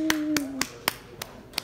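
A handful of sharp, separate claps at a Rugrats-themed live concert in Melbourne, six spaced hits with a faint sustained tone fading beneath the first few.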